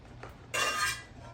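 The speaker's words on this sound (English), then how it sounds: "If I scratch this cast iron pan with this spatula" A metal spatula scrapes across a cast iron pan in one short, harsh, close-up stroke of about half a second, with a faint tap just before it.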